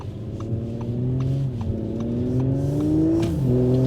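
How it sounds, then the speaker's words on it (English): An Audi B9 S4 fitted with a new Unitronic intercooler cruises along, its engine droning steadily from inside the car and rising in pitch through the gears, with a brief shift dip. "We're gonna take the S4 now for a cruise first impression with the intercooler"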